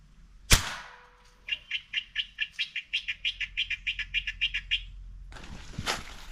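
Large birds calling outdoors: a rhythmic series of about fifteen evenly spaced chirping notes, with a sharp thump before the calls and another after them, over quiet background.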